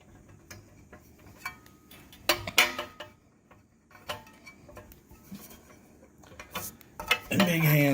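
A 10 mm wrench working bracket bolts on a 2019 Indian Roadmaster motorcycle: scattered close metallic ticks and clinks with a few louder clanks, irregular in rhythm, ending in a brief burst of handling noise.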